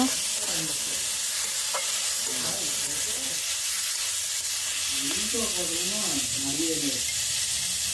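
Capsicum and onion are stirred and fried in a pan, making a loud, steady sizzling hiss with occasional scraping stir strokes. A voice sounds faintly in the background at intervals.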